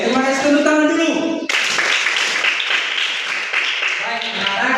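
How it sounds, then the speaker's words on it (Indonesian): A class of schoolchildren clapping their hands together in a classroom, a burst of dense, fast applause that follows a voice speaking and continues for several seconds. "tepuk tangan dulu"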